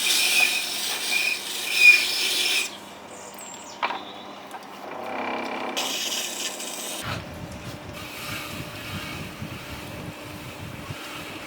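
A chisel edge is rubbed and rasped on a sharpening surface outdoors, a rough scraping texture with wind noise, shifting strokes and a steady rhythmic rubbing toward the end.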